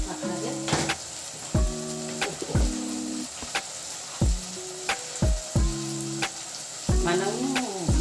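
Ground masala fries in oil in a pan for Telangana-style paneer curry, a constant sizzle broken by repeated sharp knocks and scrapes of a spoon stirring against the pan, close by.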